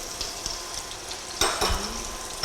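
Chicken browning in a pan for masala curry, a steady close sizzle with occasional scrapes and clinks of a utensil against the pan, no talking over it.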